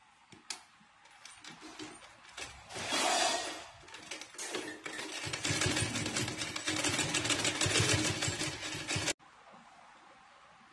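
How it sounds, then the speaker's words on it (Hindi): A sewing machine stitches along a folded fabric edge while turning an old lehenga into a saree, a steady close rattling run of several seconds that stops abruptly near the end. "यहाँ पे हम सिलाई लगाएंगे।"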